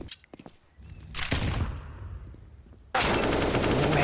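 Counter-Strike: Global Offensive gunfire in a competitive esports match, scattered single shots followed by a loud, sustained burst of rapid automatic fire at close range.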